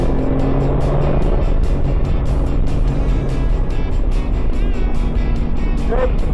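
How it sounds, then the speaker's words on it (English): A BMW M4 G82 launches and accelerates on a race track, its engine a loud, sustained roar that stays close throughout with steady intensity. "so get ready to launch the car."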